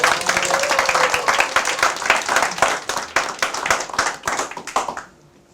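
Lecture hall audience at a Korean guest lecture claps steadily for about five seconds, with crisp, close hand claps blending into a full round of applause before it cuts off abruptly.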